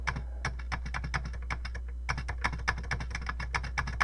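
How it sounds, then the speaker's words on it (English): Rapid, steady keystrokes clatter on a Commodore 16 computer keyboard, close and crisp, with a short pause midway over a constant low hum. "go into the machine language monitor by typing monitor, clear the screen, simply, you know, draw your graphics."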